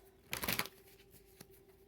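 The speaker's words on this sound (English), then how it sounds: "one more shuffle" Tarot cards being shuffled in one brief, crisp riffle burst lasting about a third of a second, followed by a faint tap and quiet room tone.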